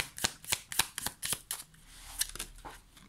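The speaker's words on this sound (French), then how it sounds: "J'ai envie de prendre quand même une petite carte en plus" Tarot cards shuffled and drawn during an astrology reading, a quick run of crisp riffling flicks followed by softer sliding as a card is pulled, close and quiet.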